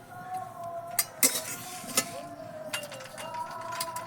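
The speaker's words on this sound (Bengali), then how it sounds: "ভেজে নেওয়া হচ্ছে শুকনো খোলায়।" Fennel and fenugreek seeds dry-roasted in an unoiled pan, stirred with a utensil that gives sharp scrapes and clinks against the metal over a faint background hum.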